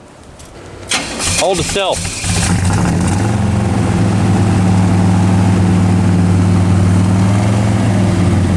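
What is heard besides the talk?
1967 Pontiac GTO engine running on fuel from IV bag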